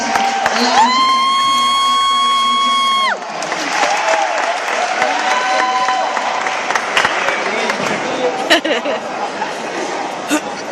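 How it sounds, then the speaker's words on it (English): A school celebration audience applauds and cheers for the 2011 group, with a sustained tone sounding over the first few seconds, then steady clapping and crowd noise continuing loudly for the rest. "need another round of applause for our 2011"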